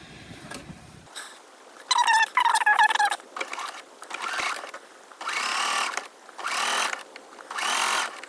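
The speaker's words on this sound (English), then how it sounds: "Okay, so I'm sewing lace onto the nightcap." A home sewing machine stitching lace onto a doll's nightcap, running in short whirring bursts of about a second each, separated by pauses and small handling noises, close and fairly loud with no talking.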